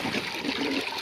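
Water poured out for pigeons, a steady close splashing and trickling stream that runs throughout without pause.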